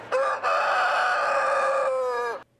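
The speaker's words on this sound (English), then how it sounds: "a good old-fashioned rooster crowing contest" A rooster crows once at a state fair rooster crowing contest, a loud, close, sustained cock-a-doodle-doo lasting about two seconds with no other sound.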